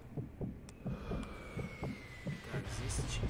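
A sniper's heartbeat in the video game Sniper Elite V2 thuds in a steady, even double-pulse rhythm, roughly two beats a second, low and close, with a faint background hum throughout.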